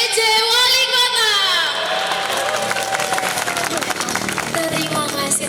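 Crowd of about 250 volunteers at an outdoor coffee gathering with the acting mayor in Malang clapping and cheering loudly and steadily, with shouts and voices mixed in throughout.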